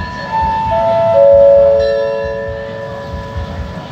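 A local train pulling out of Sisaket station in Thailand, its loud multi-tone horn sounding and sliding in pitch over a steady engine rumble, heard close by.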